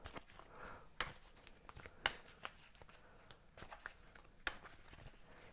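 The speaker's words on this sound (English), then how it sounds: "I'm gonna shuffle some more cards." Quiet papery riffling and snapping as a deck of cards is shuffled in several short bursts, close to the microphone.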